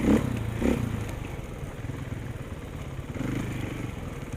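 Dirt bike engine running steadily on a hilly landslide-terrain trail, a continuous low mechanical drone with uneven rattling texture and a couple of louder bursts near the start, heard from the rider's position.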